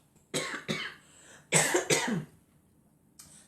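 Several harsh coughs come close to the mic in two clusters, followed by a short faint cough after a pause.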